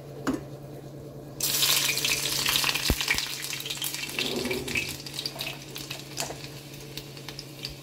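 Dishes are washed under a running kitchen tap, water gushing steadily from the faucet with occasional clatters of utensils knocking together, fairly close and continuous, no voices.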